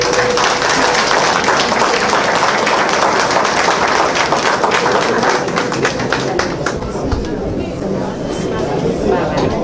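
Applause from an audience at a Haitian cultural night for Samara after her Creole poem, a dense steady clapping wash that stays loud throughout with sharp individual claps toward the end.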